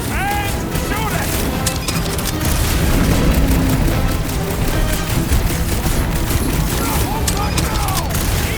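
Plasma weapon fire and explosions from a dragon fight in the Marvel's Guardians of the Galaxy video game, a dense, loud, continuous barrage of booms and blasts mixed with voices shouting.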